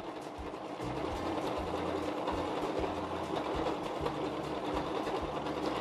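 A domestic sewing machine stitches during free-motion quilting, producing a rapid, steady mechanical chatter with a rhythmic low thumping pulse, close and continuous after a brief start, with no talking.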